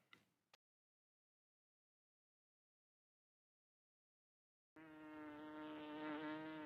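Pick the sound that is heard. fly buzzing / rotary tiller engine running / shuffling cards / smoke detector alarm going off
fly buzzing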